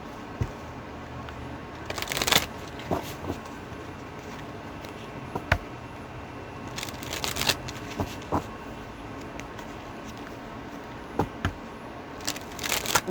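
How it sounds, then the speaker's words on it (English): Tarot cards being shuffled by hand in bursts of papery riffling and crackling, close and moderately loud over a quiet room, with several short flurries spread across the stretch and no talk. "Let's shuffle these."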